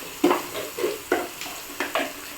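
Chopped vegetables sautéed with salt in a pan for chicken noodles, a series of short stirring scrapes and soft sizzling bursts, about six strokes in even rhythm, fairly quiet and close.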